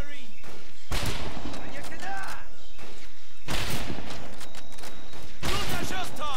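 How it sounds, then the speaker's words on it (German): Bursts of rapid gunfire in the video game Medal of Honor Pacific Assault come in three loud waves, separated by quieter stretches of background game noise. "Guter Schuss, Tom!"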